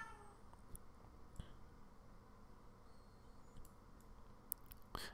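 A little cat lets out thin, screaming meows, faint and intermittent, with a sharper cry near the end over a low hissy background.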